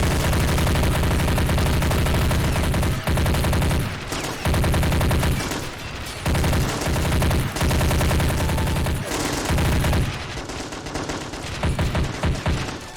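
Dense firefight in a battle simulation game: sustained machine-gun bursts and overlapping rifle shots rattle almost continuously, loud and close, broken by a few short lulls before the shooting resumes.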